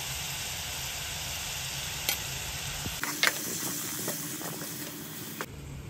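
Fish masala sizzling in hot oil in a pan for prawn masala, a steady frying hiss with spoon scrapes and clinks, and a sharper burst of sizzle as the spice goes in.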